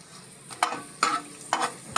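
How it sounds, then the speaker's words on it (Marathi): Dried red chilies frying in hot oil in a pan for an okra stir-fry: a crackling sizzle broken by four sharp stirring scrapes at roughly even intervals, close and fairly loud. "या सुक्या मिरच्या मी तेलावर टाकतो आहे"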